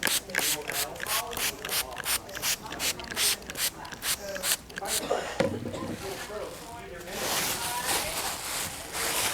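A spray bottle spritzes water onto a leather-hard clay piece, a quick series of sharp hissing bursts in steady rhythm, close and fairly quiet.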